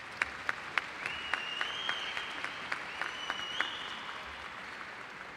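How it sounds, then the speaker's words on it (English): Scattered claps ring out at a high school graduation ceremony after a choir performance, a sparse run of distinct hand claps over a low crowd hum, with a faint whistle-like tone drifting through. "Let's give them another round of applause"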